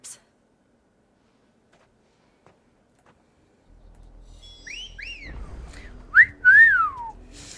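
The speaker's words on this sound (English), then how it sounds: "What is that whistle?" A whistle sounds in Final Fantasy XVI: a few rising and falling whistled tones, the last ones longer and louder, heard over faint outdoor ambience after near silence.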